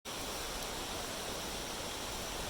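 Steady rushing water of a creek far down a steep slope below a trail near Kentucky Falls, Mapleton, Oregon, a constant broadband wash that holds even and unbroken throughout.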